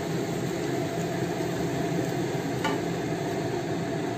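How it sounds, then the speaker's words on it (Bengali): Beaten eggs, eight of them whisked together, poured into a hot pan for egg bhurji, giving a steady broadband sizzle that holds evenly throughout without talk. "দেখো আমি পুরো ডিম আমি এর মধ্যে ঢেলে দিলাম"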